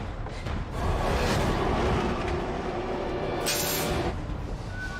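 Dense, loud rumbling roar of a train during the climactic final act of the film Collateral, with sustained heavy low-end noise and a brighter hissing burst near the end, no talk over it.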